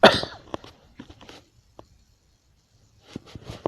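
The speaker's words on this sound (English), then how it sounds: "I got a little bit of a cough" A sharp cough bursts out at the start, followed by a few scattered small noises and near silence, then some soft shuffling sounds near the end.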